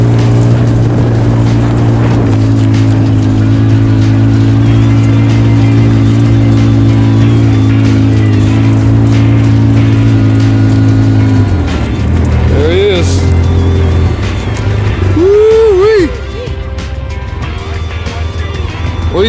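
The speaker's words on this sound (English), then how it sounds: "I went home and picked up Mom in the four-wheeler, and we're driving to go get it." A four-wheeler drives along at a steady engine drone on a whitetail bow hunting outing, the motor winding down near the end while a person talks over it.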